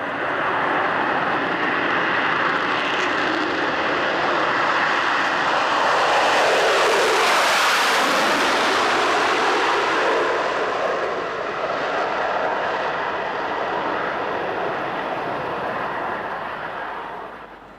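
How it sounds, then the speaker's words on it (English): Concorde supersonic jet departing runway 31 left at New York, a loud sustained roar that swells to a peak mid-clip and slowly fades, with no talk. "That departure from 31 left at New York is spectacular in those conditions"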